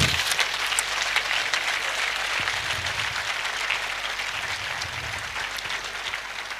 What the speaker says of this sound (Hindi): जोरदार तालियां लगाओ